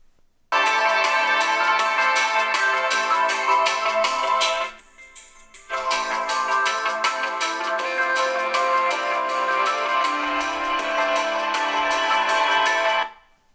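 A loud ringtone melody plays through the loudspeaker of a Vivo X9 phone, bright and continuous, with a short pause midway before the tune resumes.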